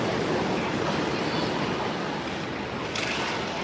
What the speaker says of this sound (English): We're hearing crazy rain here. It comes in waves across the ceiling.